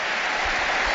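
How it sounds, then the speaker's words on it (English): Stadium crowd at France versus Germany football match applauding a substituted player, dense continuous clapping filling the whole second, loud and broad. "Giroud being richly applauded"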